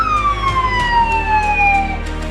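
A loud, close siren from a SAMU ambulance arriving at a simulated traffic accident drill, its pitch sweeping slowly downward over steady traffic rumble.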